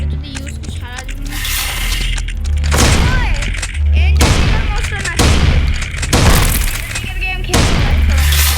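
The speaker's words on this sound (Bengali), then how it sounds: "আমি শর্ট গান ইউজ করবো" Shotgun blasts in a zombie video game, heavy booming shots repeating about once a second over a rumbling game soundtrack, loud and up front, with someone talking throughout.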